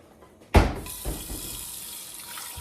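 A kitchen tap bursts on and water streams steadily into a pot in the sink, a sudden splash followed by a continuous hissing rush, close and fairly loud, no talking.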